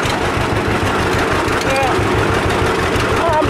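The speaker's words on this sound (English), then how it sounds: "you ready for this green John Deere to pull that red International?" A John Deere 60 tractor engine chugs in a steady low rhythmic beat while pulling a red International Super M, with people talking over it throughout.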